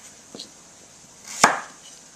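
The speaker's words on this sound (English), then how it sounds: "I'm going to chop this into cubes" A knife chops through beets being cut into cubes for steamed vegetables, giving one faint tap early and then a single sharper, louder chop on a board, with quiet room noise around them.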